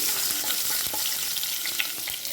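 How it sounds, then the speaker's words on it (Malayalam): Ginger sautés in hot oil in a pan for a prawn and shallot roast, giving a steady, dense, close sizzle with faint stirring scrapes and no talking. "ഇനി ഇഞ്ചി ഇടാം. ഒന്ന് വഴറ്റാം."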